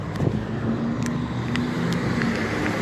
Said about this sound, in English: here we go with the big trucks now in the morning